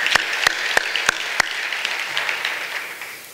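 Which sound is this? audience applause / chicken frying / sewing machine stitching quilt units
audience applause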